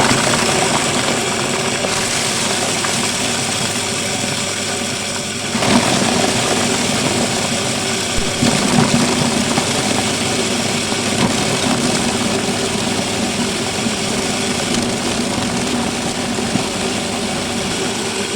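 An engine-driven bladed chopping machine for chicken feed runs with a steady, smooth mid-pitched hum and vibration, nearby and continuous, with a brief surge in load as material is fed in.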